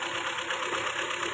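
A Ford Fiesta engine runs at low RPM; the car has a misfire and stalling fault with code P0171. It makes a steady, close, even mechanical drone with a faint whine, and nothing else is heard.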